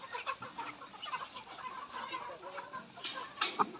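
Layer hens and ready pullets of mixed ages cluck steadily on a poultry farm, a soft continuous chorus of overlapping clucks with a few louder calls near the end.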